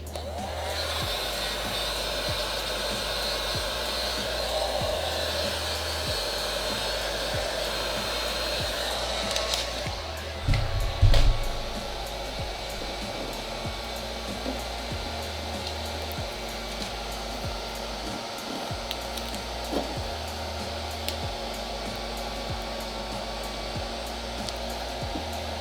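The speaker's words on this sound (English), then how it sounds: "I'm going to heat it up again and shrink the vinyl back into its original shape" A heat gun blows hot air to shrink vinyl tint film around a vehicle head or tail light corner, a loud constant whooshing hum with a brief clatter and bump near the middle.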